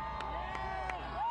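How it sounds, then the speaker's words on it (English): Parade crowd in Athens celebrating the Georgia Bulldogs 2023 championship, a close wash of screams and cheers with high whoops rising above a steady roar, a voice talking beneath. "We can barely hear each other kind of talking over because there's just so many screams, so many cheers"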